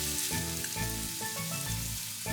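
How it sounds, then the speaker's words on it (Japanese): King oyster mushrooms and peppers sizzle loudly together in one frying pan for a bento side dish, a dense continuous close fry with brief shifts as pieces are moved, no voices. "エリンギも食べやすく切って一緒に焼こう"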